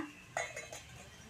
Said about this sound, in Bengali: এখন দিয়ে দেব এর উপরে একটা ঢাকনা।